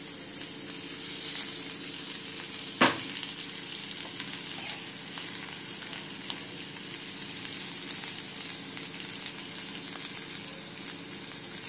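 Drumstick pods frying in shallow oil give a soft, even sizzle like light rain, with a single sharp clank of utensil against pan early on.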